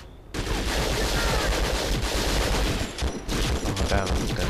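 Dense, sustained automatic gunfire and overlapping shots from a squad in the video game Conflict: Global Storm, loud and nearly continuous with a brief dip near the end.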